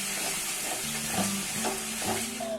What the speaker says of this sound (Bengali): আলুর সঙ্গে মশলাটা ভালো করে কষিয়ে নিচ্ছি কাঁচা গন্ধ চলে যাওয়া পর্যন্ত